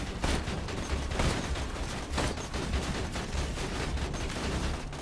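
Gunfire in the shooter video game Borderlands 2, dense rapid volleys of loud shots crackling continuously with game noise underneath and no pause.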